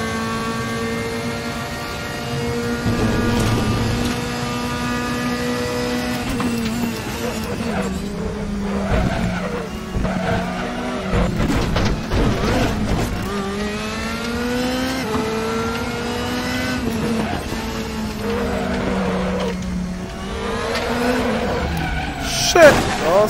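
A race car engine in a VR racing game wails through rising and falling revs while tires skid and squeal, with someone talking excitedly over the steady loud drone.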